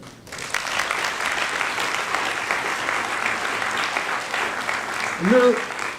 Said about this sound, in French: je vous invite à applaudir